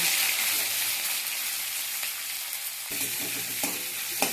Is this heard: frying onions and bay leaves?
yes